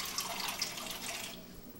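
Running water at a laboratory eye wash station, a steady close splash and trickle for about two seconds that eases slightly toward the end, with no voices.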